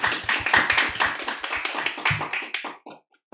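A church congregation claps together in quick, steady rhythmic unison on the church's second-anniversary Sunday during Lent, loud and close, then the claps taper off and stop near the end.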